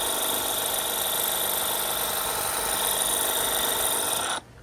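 A Ryobi 18V 600 PSI portable pressure washer running close by, a loud steady whining motor and spray hiss that holds constant before cutting off abruptly near the end.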